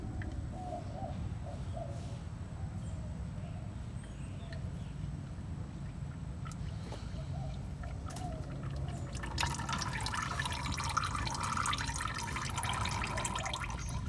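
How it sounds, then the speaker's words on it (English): Engine oil drips from a drained filter on a 2014 Toyota Tundra with a 5.7L V8 during an oil change, faint irregular drips over low background hum, with a rustle of handling later. "looks like we're in drip mode now"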